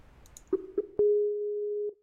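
A telephone ringback tone heard while placing a call: a few short clicks and blips, then one steady tone that holds for about a second before cutting off, fairly faint, with no voices.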